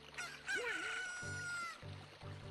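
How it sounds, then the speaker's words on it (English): A rooster crows in Zelda: Ocarina of Time, one stretched cock-a-doodle-doo with a rising, wavering call, loud and close, followed by a few short clucking notes. "I can't believe it's this chicken that wakes him up"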